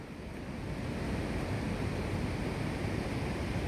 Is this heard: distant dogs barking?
no